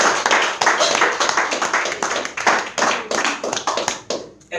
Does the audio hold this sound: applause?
yes